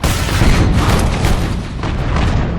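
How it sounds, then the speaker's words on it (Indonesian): Artillery cannon fire from a war film makes a loud, continuous booming roar with heavy low rumble, dense and sustained with no pauses. "meminta bantuan dari luar agar menembakkan meriam dari kejauhan"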